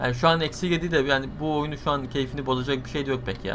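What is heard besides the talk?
No distinct noise like a dog, phone or traffic.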